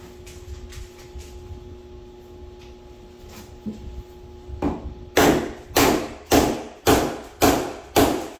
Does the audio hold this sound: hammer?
yes